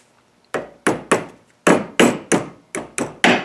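A part being tapped onto a lawn mower shaft with a hammer, giving nine sharp, separate metallic knocks at a steady, slightly uneven pace, close and loud with brief ringing after each hit.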